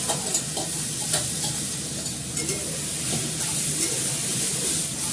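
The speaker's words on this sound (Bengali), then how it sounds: "চালটা লাল করে ভাজা হয়ে গেছে, এবার চালটা দিয়ে ভালো করে কষাবো।" Rice stir-fried in a pan until reddish, with a continuous sizzle of frying and steady scraping and stirring strokes close by, fairly loud throughout.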